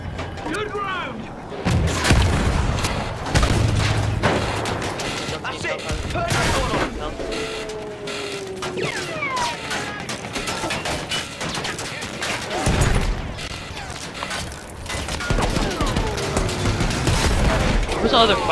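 Battlefield 1 combat with tanks: dense gunfire and booming explosions go on throughout, near and far, with sharp bursts, heavy thuds and whistling shells, while voices talk over the battle.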